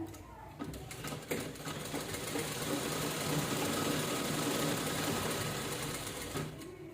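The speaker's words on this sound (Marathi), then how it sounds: "शिलाई केली की पूर्ण खालीपर्यंत शिलाई करत जायचं" A sewing machine runs steadily, stitching a two-colour purse from end to end in a close, continuous whir that starts after a brief pause and holds at a constant pace.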